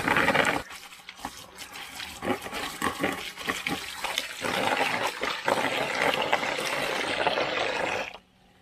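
Water running and splashing as a dirty, yellow-mud-stained cloth is rinsed by hand in plain water with nothing added, a steady close wash of sloshing that stops abruptly near the end.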